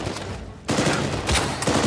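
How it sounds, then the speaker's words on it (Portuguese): A burst of rapid gunfire in the video game Uncharted 4 crackles, pauses briefly, then resumes with several sharp, loud shots in quick succession. "Nossa, belo tiro, Thiago."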